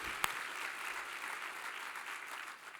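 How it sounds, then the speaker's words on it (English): Steady applause from a business luncheon audience, dense and even throughout, with one sharp clap standing out near the start; no voices rise above it. "For that, you deserve a round of applause."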